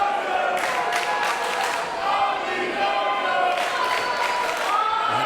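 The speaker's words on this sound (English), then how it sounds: "the crowd's battling back and forth here" A dense crowd at a wrestling match roars and chants continuously, rival sections trading loud cheers back and forth in a steady, undulating wall of voices with no pause.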